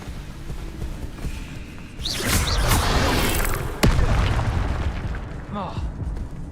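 Expelliarmus spell cast in the video game Hogwarts Legacy: a loud whooshing magical burst with a booming rush, a sharp crack near the end, and chirpy effects; game sounds fill the clip.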